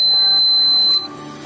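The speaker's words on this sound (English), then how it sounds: "you can turn the beep on and off" A single steady high-pitched electronic beep from a Topcon RL-H5A laser level sounds for about a second, then cuts off, leaving a quieter hum.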